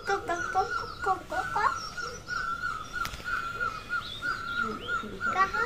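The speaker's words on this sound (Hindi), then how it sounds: "ये सुन रहे होंगे पंछियों की आवाज़, सुनिए आप कितनी सुंदर और मधुर आवाज़ें हैं।" Birds call on a mid-morning hillside in McLeodganj: a continuous mix of chirps and whistles with crow-like caws, moderately close and lively for the whole stretch.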